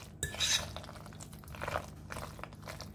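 A spoon scrapes and knocks against a pot while baked ziti sauce is stirred, giving soft clinks and wet squelches, close and fairly quiet.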